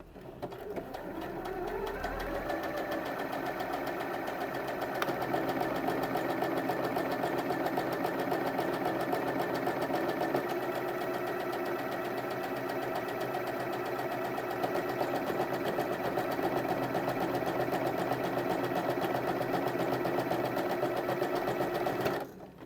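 A domestic sewing machine set to buttonhole mode stitches steadily with a buttonhole foot, a close, continuous rapid whirring hum of needle and motor running for about twenty seconds before stopping.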